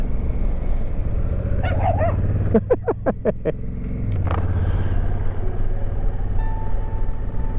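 A dog barks in a quick series of sharp yaps beside a rural road in Cumbria, over the steady rumble of a motorcycle engine.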